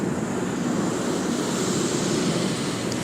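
A commercial airplane passes overhead at night as a steady, broad roar that holds at one level throughout, with no talk.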